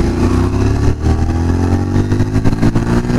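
A Bajaj Pulsar 125 motorcycle rides along with a steady, loud engine drone and slight shifts in pitch as it runs, close and continuous with no talk over it.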